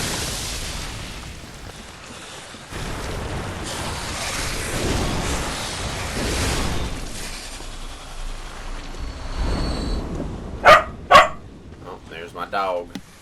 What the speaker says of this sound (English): Dogs decided, hey, let's bring the play toy directly into the office. And then just bark at each other.